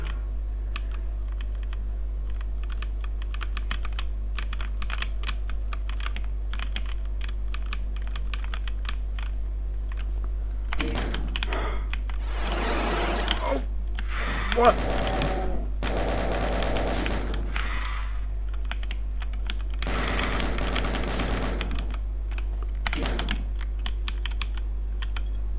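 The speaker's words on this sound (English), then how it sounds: "It's good to be playing this with keyboard." Computer keyboard keys clatter in several dense bursts of rapid clicking while Doom is played, heard close over a steady low hum, with quieter scattered taps between bursts.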